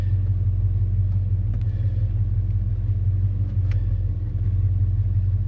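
A 1961 Chrysler Imperial LeBaron idling and creeping slowly onto a lift in a garage, a steady low engine rumble close by with faint mechanical clicks and no talking.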